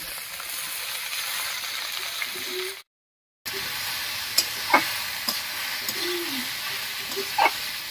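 Ash gourd, garlic and green chilli frying and being stirred in a pan, a steady moderate sizzle broken by a short silent gap, with a few sharp clinks and scrapes from stirring.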